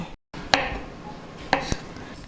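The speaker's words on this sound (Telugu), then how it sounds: "పన్నీర్ని చిన్న చిన్న ముక్కలుగా కట్ చేసుకుందాం" A knife chops paneer into small pieces on a cutting board in a home kitchen, with three distinct, crisp knife strikes spaced about a second apart against quiet background.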